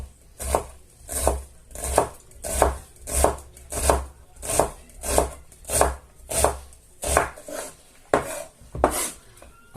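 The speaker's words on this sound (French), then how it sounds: "Et on coupe." Knife chopping courgette on a board for a gratin with minced meat, about sixteen evenly spaced crisp cuts in a steady rhythm, close and clear with no talk.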